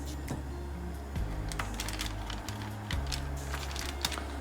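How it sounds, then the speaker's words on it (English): A knife cuts 120 grams of butter into small cubes on a board, making a series of soft, close taps and clicks at an irregular pace, with no talking. "I'm just going to cut this 120 gram into little pieces so I can put it into my pot to begin melting the butter"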